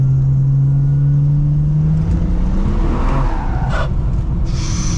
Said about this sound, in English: I'm doing input to the car and it's not breaking loose nearly as easy as it normally does